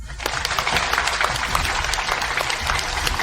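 Audience applause welcomes new colleagues at a company event, a dense, steady wash of clapping from many hands that fills the whole stretch at even loudness.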